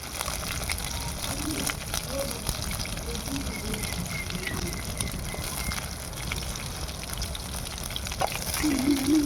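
Onions frying in hot oil for Dindigul-style oil brinjal kuzhambu, a steady close sizzle with soft crackles and bubbling throughout, rising slightly louder near the end.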